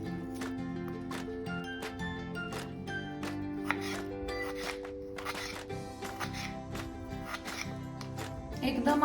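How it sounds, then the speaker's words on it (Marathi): A knife taps out fast, fine chopping strokes on a tomato against a board, a steady close rhythm of crisp cuts that runs throughout, with quiet background noise. "आता आपण असा टोमॅटो पण एक बारीक चिरून घ्यायचा आहे"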